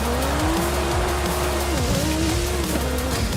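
A car in the racing game Forza Horizon 5 slides under the e-brake, its tires squealing in a long wavering screech over a steady engine drone, loud and close throughout.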